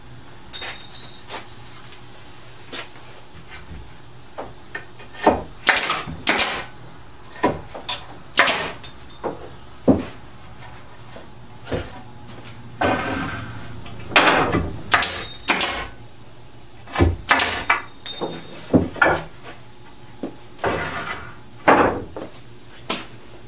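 An air-powered tool knocking nails out of a wooden pallet while the compressor runs low on air, giving a series of sharp bangs and metallic clanks at irregular intervals with short pauses between.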